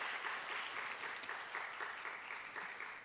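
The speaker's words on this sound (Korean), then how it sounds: "우리 하나님께 다시 한번 영광의 박수 올려드립니다" Congregation at a church youth gathering applauding together, a steady, dense wash of many hands clapping that holds at even strength for about three seconds with no voices on top.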